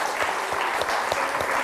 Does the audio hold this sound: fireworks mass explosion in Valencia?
no